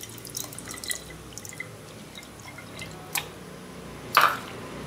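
Tamarind extract being poured for Srirangam-style rasam: a quiet kitchen with a few scattered drips, then a sharp liquid splash near the end, with no talking.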